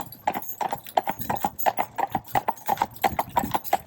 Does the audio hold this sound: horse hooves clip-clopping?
yes